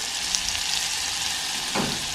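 Garlic frying in butter in a hot pan, a steady close sizzle with a continuous bright hiss and a slight surge toward the end, no talking.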